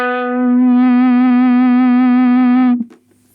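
A sustained guitar note processed through a harmonizer effect set to add a unison note, with a slight wavering shimmer, holds for nearly three seconds before stopping sharply, leaving faint residual noise.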